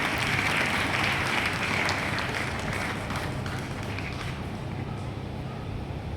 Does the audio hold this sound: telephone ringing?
no